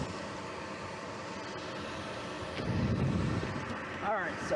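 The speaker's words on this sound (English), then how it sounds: "All right, so both inducer motors are running." Inducer motors on a commercial Lennox HVAC rooftop unit run in heat test mode, giving a steady broadband mechanical drone that swells slightly partway through.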